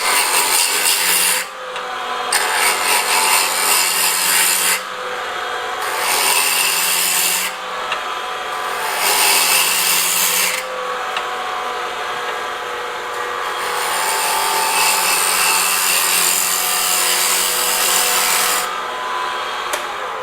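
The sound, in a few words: shearing cut on a wooden bowl, woodturning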